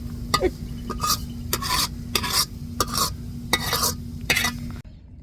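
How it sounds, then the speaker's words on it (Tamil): Ghee-roasted coconut is stirred into ground batter with a spoon in a pan, in repeated scraping strokes over a faint sizzle from nearby frying, loud and close. "நெய்யில் வறுத்த தேங்காயை நம்ம அரைச்ச மாவில் நல்லா கலந்து விட்டுறணும்"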